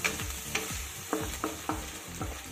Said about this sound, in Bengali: প্রথমে দেখো এই মশলাটাকে একটু ভাজা ভাজা করে নেব